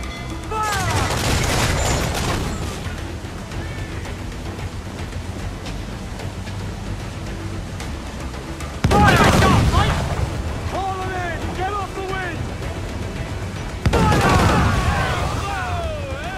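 Cannon and gunfire in a naval battle in Assassin's Creed IV: three loud bursts of booming, crackling fire, at the start and again near nine and fourteen seconds, over a steady game soundscape with shouted voices.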